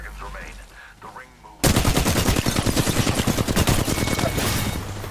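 Rapid automatic gunfire in a shooter game bursts in suddenly after a quieter stretch, a loud, dense, rhythmic stream of shots that continues steadily to the end.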